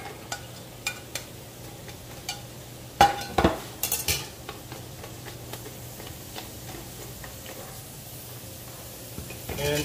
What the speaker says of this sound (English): So right now we can add the garlic. And also the onions.